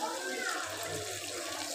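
A little water is poured into a wok over a spice paste mixture for a vegetarian green jackfruit curry, making a brief splashing trickle close by while a voice talks over it.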